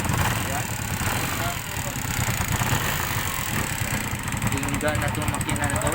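A Haojue HJ 125-16 motorcycle, recently fitted with a CDI conversion, idles with a rough, steady putter and a faint mechanical ticking while people talk nearby throughout.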